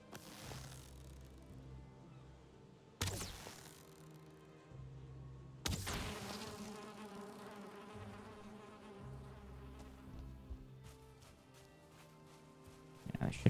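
Bees buzzing around a beehive in Valheim, a faint steady insect drone with a few sharp clicks and bumps breaking through, and a voice speaking softly beneath it.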